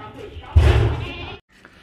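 A dairy goat at a livestock market gives one loud, close bleat lasting under a second, with a faint noise following.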